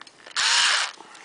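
A power tool drives a screw during furniture assembly: a single short, loud whirring burst of about half a second, close by, with quiet room sound before and after.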